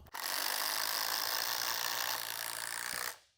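Cordless 12V brushless impact driver sinking a GRK screw, one continuous close, loud burst of rapid hammering lasting about three seconds before stopping abruptly.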